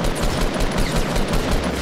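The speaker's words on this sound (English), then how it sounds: "What are they shooting at?" Rapid gunfire in the Fortnite Battle Royale video game, a loud, dense continuous burst of automatic shots with no talking.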